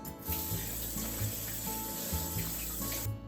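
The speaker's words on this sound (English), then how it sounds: "so let's wash it really well." A kitchen faucet runs steadily while a whole sweet potato, skin on, is scrubbed under the stream for miso soup, a continuous close splashing with small shifts as the vegetable is turned in the water.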